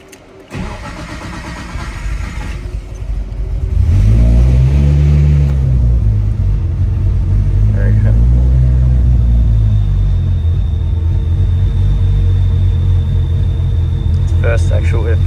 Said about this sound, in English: We'll give it its first proper actual start.